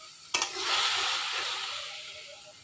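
Ginger-garlic paste hits hot oil with fried onions in a pan while cooking an egg curry, giving a sudden sharp burst followed by a steady, loud sizzle that slowly eases off.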